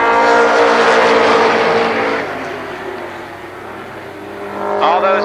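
Stock race cars roar loudly past on a speedway at Columbus Motor Speedway in 1996, their engines fading into the distance before another car's engine swells back in near the end.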